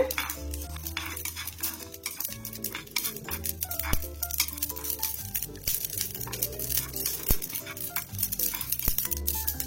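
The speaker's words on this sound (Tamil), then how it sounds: "இங்க பாருங்க கடுகு பொரியுது பாருங்க." Mustard seeds and fenugreek dry roasting in a pan splutter with dense, rapid crackles and pops, mixed with utensil stirring and scraping close by, over a faint tonal background.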